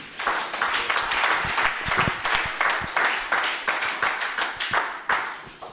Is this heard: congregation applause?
yes